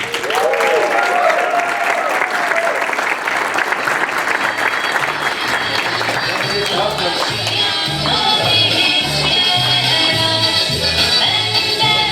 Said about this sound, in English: How about a nice round of applause for Stacey Morris.